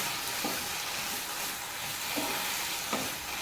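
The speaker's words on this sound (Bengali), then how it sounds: "আমি একটু বাটার দিলাম, দিয়ে এবার এটা নাড়াচাড়া করব" Cauliflower stalk paste frying in butter in a pan while being stirred, a steady close sizzle with a few soft scraping strokes of the spatula.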